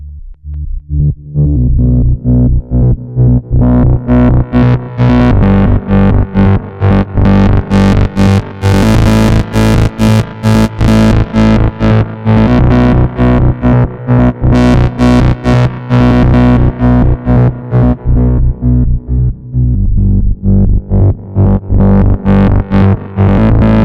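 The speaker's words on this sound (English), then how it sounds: "let's try to activate the Echo Boy again" A Moog Subsequent 37 analog synthesizer plays through an Echo Boy echo effect, producing a loud, continuous buzzy drone with rhythmic repeats whose brightness sweeps open and closed over about twenty-four seconds.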